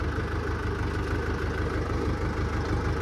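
A tractor engine idles steadily in a sugarcane field, a continuous low rumble with an even throbbing pulse, close by and alone without talk.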